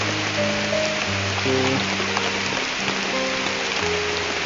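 Steady rain patters on surfaces in a continuous hiss, with sustained tones beneath and a single brief spoken word.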